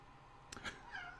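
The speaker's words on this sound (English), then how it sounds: "Cat's trying to get into the other room where my old lady is sleeping, and the door shut." A pet cat meows from behind a shut door to a room where someone sleeps, giving two short cries close together, fairly faint in a quiet room.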